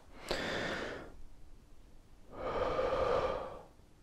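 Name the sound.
a demonstrated shallow breath taken into the lungs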